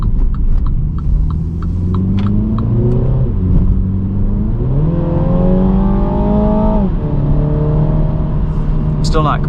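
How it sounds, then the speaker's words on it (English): A 2021 Mini Cooper's 4-cylinder engine revs up through rising, falling and rising pitch sweeps as the car accelerates, loud and close with a throbbing hum. "Still not completely sold on the engine sound"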